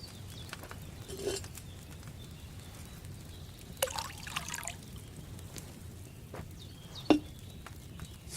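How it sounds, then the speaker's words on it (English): Wine poured into a cauldron in Kingdom Come: Deliverance 2, a faint trickling splash with a few soft clinks and knocks against a quiet background. "So, what did you pour in there? Wine, of course."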